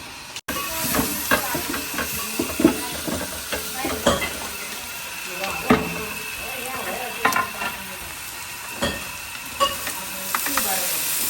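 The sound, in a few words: frying fried rice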